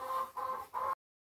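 Homestead chickens on a farm give three close, even clucking calls in a row, loud and clear with no talk, then the sound cuts to silence.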